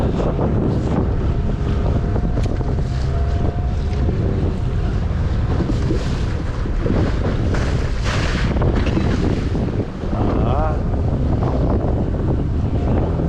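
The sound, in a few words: old fishing boat riding waves in wind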